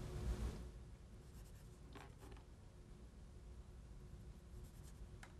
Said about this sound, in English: You may need your pencil and paper again.